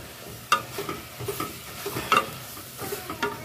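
Bison meat with seasonings cooking in a pot for chili: a soft sizzle underlies irregular stirring scrapes and light clinks of a utensil against the pot, close by and without speech.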